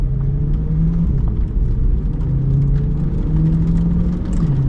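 A 2024 Chevrolet Corvette E-Ray lapping Pikes Peak International Raceway, heard from inside as a loud, steady engine drone with rising pitch sweeps as it accelerates and shifts, under constant road and wind rumble.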